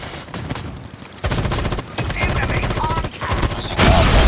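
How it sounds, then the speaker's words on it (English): Rapid bursts of automatic gunfire from a hostile sentry gun in the mobile shooter Call of Duty Mobile, with dense crackling volleys that grow louder and more sustained toward the end. "Be advised, hostile sentry gun spotted."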